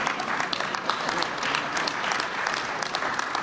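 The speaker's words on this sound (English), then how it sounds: "You're supposed to applaud." Audience applause at an O'Hare Terminal 3 event in Chicago, a moderate, even patter of many hands clapping for a few seconds, heard from some distance.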